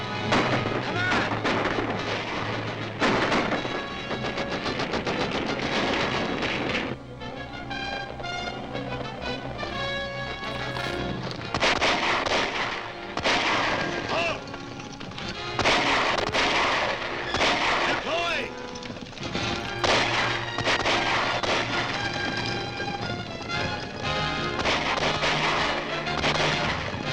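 Repeated gunfire and artillery blasts in an old black-and-white Captain Marvel adventure serial, rapid cracks and booms layered with shouting voices and dramatic orchestral music across a long, busy battle scene.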